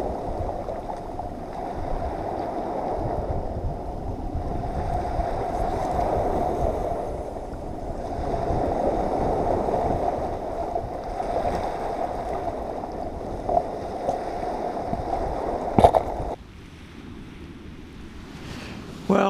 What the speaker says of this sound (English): The tide is encroaching